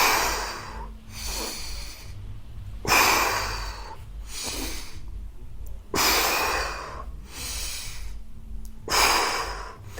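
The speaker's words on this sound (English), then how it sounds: "So I'm going to breathe in." Deep, audible breaths during a Swiss ball spinal stability workout, several long inhales and exhales in a slow, repeating rhythm, close and fairly loud, with no talking.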